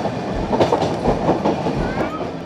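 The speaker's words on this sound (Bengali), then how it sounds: "ট্রেন এখন সেই আরাভান কাডুতেই ঢুকছে" A Nilgiri Mountain Railway train rolls into Aravankadu station, its wheels giving a steady, close rumble with rhythmic clickety-clack over the rail joints and no talk.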